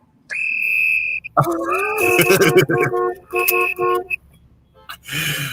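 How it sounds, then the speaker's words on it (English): A novelty whistle toots and burbles with a warbling, croaky tone in several bursts, close by, followed by a short rustle at the end. "I think we're going to try the whistle this time."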